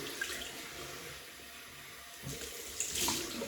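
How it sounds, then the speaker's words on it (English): A cold-water tap runs into a basin, a soft, steady rushing and splashing that swells slightly near the end, with no one speaking. "Right, cold water rinse, which will be very welcome because, as I say, it's warm in here."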